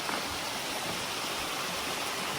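A mountain stream and waterfall along a hiking trail near Pang Hai, Chiang Mai, give a steady, even rush of broadband water noise, constant and unbroken with no voices over it.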